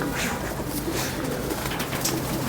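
Pigeons coo softly in a loft, with low repeated calls layered over a steady background hum throughout.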